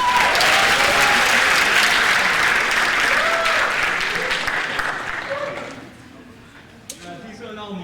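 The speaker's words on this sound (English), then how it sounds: "Please give her a round of applause." Crowd applause at a cabaret event, loud sustained clapping with a few voices mixed in, gradually fading out over several seconds until only scattered claps and room noise remain.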